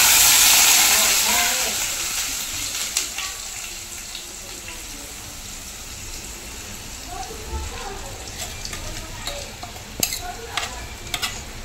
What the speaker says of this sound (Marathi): इकडे आपण लसूण टाकून घेतले, तर ते जर आता वाटण टाकूया आपण.